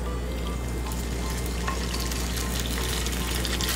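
Beef hitting two spoons of hot salad oil in a wok, a steady close sizzle that grows slightly brighter as it fries, with faint stirring underneath and no one talking.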